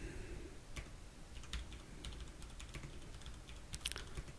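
Keys clack on a computer keyboard as a command is typed into a Unix terminal, a sparse run of single taps and short bursts over steady room noise, fairly close.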